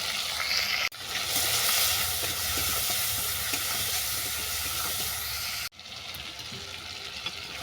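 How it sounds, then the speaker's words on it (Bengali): Prawns fry in hot oil with salt and turmeric, a loud, close, continuous sizzling hiss with faint stirring, broken by two brief abrupt cuts, no talking. "এরপর চিংড়ি মাছটাকে আমি ভেজে নেব"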